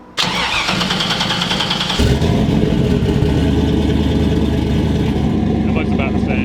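A modified Volvo sleeper car with a stealthy exhaust and a new intercooler setup cranks and fires up close by, then settles into a loud, rough, throaty idle with light revving that carries steadily through to the end.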